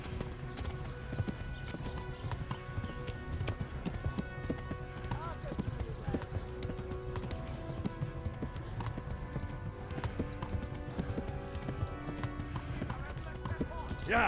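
A horse gallops in Kingdom Come: Deliverance, steady rapid hoofbeats drumming throughout at close range, with occasional whinnies and voices running underneath the game sound.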